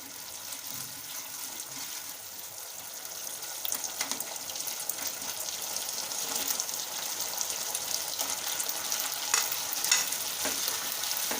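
Fried broccoli is stirred in a sizzling Manchurian sauce in a pan, with continuous frying hiss and soft, irregular scraping of a spoon, fairly quiet and steady throughout.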